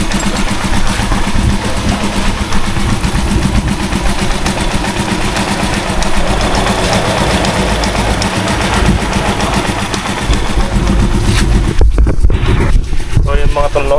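A Rusi Chariot 175 motorcycle engine idles steadily right after an oil change, a continuous close rumble holding even through most of the stretch, with some louder knocks and handling noise near the end.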